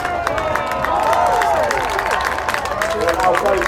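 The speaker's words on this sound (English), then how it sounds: "Big cheer for the crew teams" A crowd at the Eastbourne airshow applauds and cheers during the Red Devils Army parachute display, steady clapping and whooping throughout, with an announcer speaking loudly over it.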